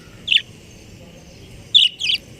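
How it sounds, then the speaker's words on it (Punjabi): Pet parrots let out three sharp, high chirps, one alone and then a quick pair, close and clear over a quiet background. "ਹੁਣ ਤੋਤੇ ਦੀ ਤੁਸੀਂ ਗੱਲਾਂ ਸੁਣ ਲਓ"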